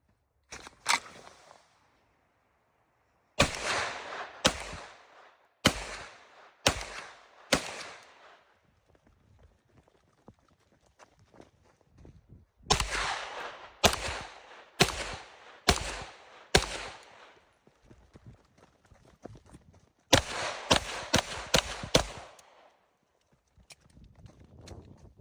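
Staccato P pistol fired at an outdoor range in three strings of five sharp, loud shots, each crack ringing briefly with quiet pauses and faint movement between strings.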